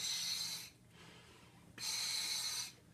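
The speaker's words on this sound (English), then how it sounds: "and you're breathing regular air, not oxygen" Two hissing inhalations through a scuba regulator, each lasting under a second and loud and close, are separated by a quieter exhale with a soft mechanical valve click.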